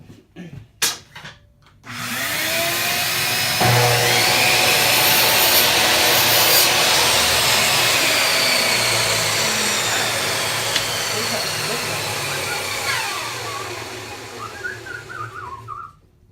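A power saw cuts through pallet wood, a loud whining roar that starts abruptly, holds steady for about twelve seconds with a grinding edge, then winds down, with brief handling clatter before it.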